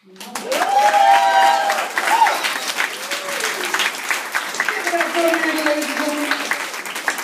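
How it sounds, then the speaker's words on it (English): A warm round of applause for a poet from Lanier High School fills the room, with steady clapping, a few voices whooping over it, and the sound slowly thinning toward the end. "keep that warm round of applause going"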